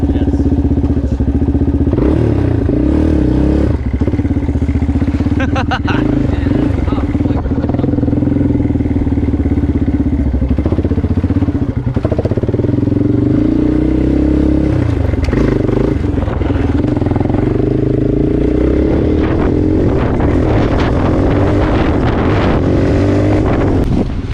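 A motorcycle runs loud and close in first gear after an electric start, its engine drone rising and falling with throttle under heavy wind buffeting on the microphone.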